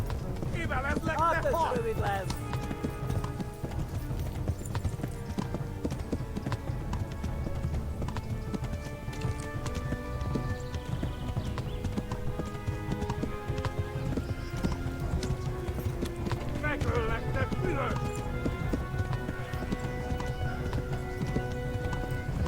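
A horse gallops in the medieval video game Kingdom Come: Deliverance, with steady rapid hoofbeats throughout and a couple of whinnies. Someone talks over it, and game music plays underneath.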